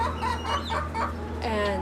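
Hens cluck repeatedly inside a hen house by a nesting tower, a close run of short, throaty calls over a low steady background hum.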